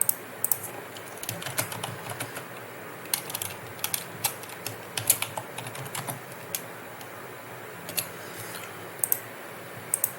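Keys clatter on a computer keyboard as a name is typed into a sign-up form, producing short irregular bursts of crisp clicks with brief pauses, close and fairly quiet.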